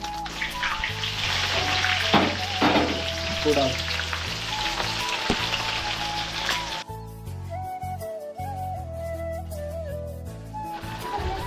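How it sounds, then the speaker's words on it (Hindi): Chicken sizzles and fries steadily in a kadai, a dense continuous crackle that later thins out, with faint kitchen clatter and no one speaking. "चिकन बन रहा है कढ़ाई पे।"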